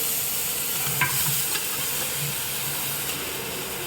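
Ginger garlic paste frying in a large pot for a big batch of biryani while being stirred, a steady close sizzle and hiss with faint scraping throughout, no voices.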